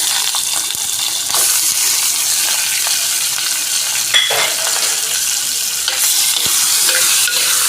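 Diced mango and green chili sauté in a hot pan, giving a steady, loud sizzle with occasional stirring scrapes and clinks throughout, no voices.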